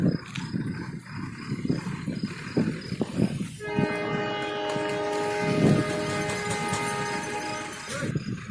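A train rumbles loudly through a level crossing, wheels clattering at first before a long, steady horn blast sounds close by and holds for several seconds over the roar.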